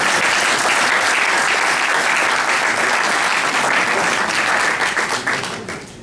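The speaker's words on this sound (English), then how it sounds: "Can we give him another round of applause?" A crowd at an address by Alhaji gives a round of applause, thick continuous clapping that stays loud and then thins out at the very end.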